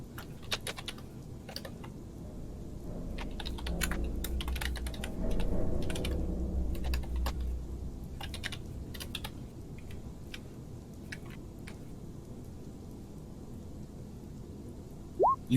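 Rapid, uneven clicking of keys on a computer keyboard, close and fairly quiet, with bursts of fast taps and short pauses over a low background murmur.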